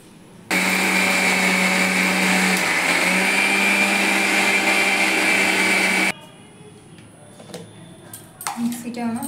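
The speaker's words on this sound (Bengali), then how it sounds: "জলটা ফেলে দিয়ে ভালো করে ধুয়ে এটা মিক্সি করে নিচ্ছি" A mixer grinder blends soaked lentils into a paste, roaring loud and steady with a whining motor tone for about five seconds before cutting off abruptly. Faint clatter and handling noises follow.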